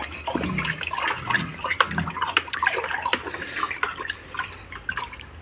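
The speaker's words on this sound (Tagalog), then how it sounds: "Kulay blue yan, so dapat i-mix nyo maigi para yung gamot humalo sa tubig." Water swishes and splashes continuously as blue piglet medicine is stirred into water, with small drips and clinks throughout.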